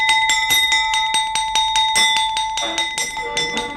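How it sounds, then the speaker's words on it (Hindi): A school bell rings for the half-day break in a staged classroom scene, sounding as a bright, insistent run of rapid metallic strikes that keeps going for several seconds, loud and close, with a clatter of background noise toward the end. "आधी छुट्टी की घंटी बजा दी"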